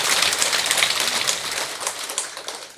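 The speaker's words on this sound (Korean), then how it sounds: "공연히 박수만 치지 마시고" An audience claps at a Buddhist dharma service led by Venerable Jongbeom at Musangsa temple. The applause is dense, steady and crackling, fairly loud throughout, and slowly thins toward the end.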